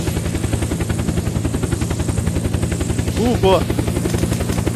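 A helicopter in the game Unturned flies with a fast, steady rotor chop throughout, loud and close, while a voice briefly speaks over it near the end.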